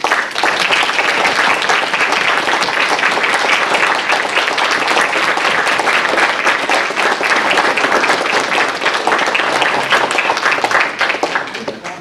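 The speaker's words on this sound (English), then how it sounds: "I'd like the rest of them to stand and face the audience for one more round of applause." Dense, loud applause from a library audience fills the room for piano recital students, a continuous wash of many hands clapping steadily for about twelve seconds before easing slightly at the close.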